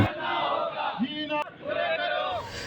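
Protesters at a nurses' association sit-in strike in Sukkur chanting slogans together, a loud continuous group of raised voices with rising and falling shouted phrases, one sharp click midway.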